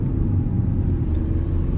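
Maruti Suzuki Vitara Brezza diesel AMT compact SUV driving through city streets, heard as a steady low engine and road rumble from inside the cabin, continuous and even with no talking.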